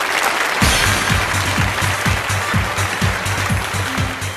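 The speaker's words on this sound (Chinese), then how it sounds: "掌声有请。" A studio audience at a Chinese book-recommendation program applauds to welcome the author and an archaeology team leader, steady crowd clapping with a rhythmic low thumping of footsteps as the guests walk on.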